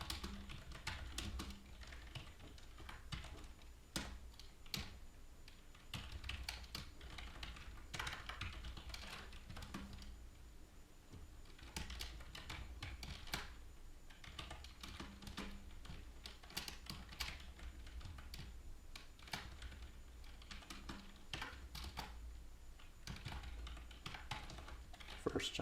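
Typing on a computer keyboard while coding, a steady quiet patter of individual key clicks in irregular bursts, close but faint, continuing throughout with occasional low murmured talk.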